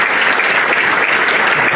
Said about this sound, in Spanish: Vamos a darle un aplauso a Sarita